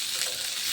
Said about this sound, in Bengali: তেল দিয়ে পেঁয়াজ, রসুন এবং মরিচগুলোকে হালকা বাদামি কালার করে নেব